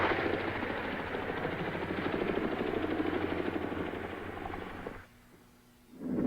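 A helicopter's rotor thumps in a steady, loud chopping rhythm with engine roar, then cuts away abruptly near the end before a brief return.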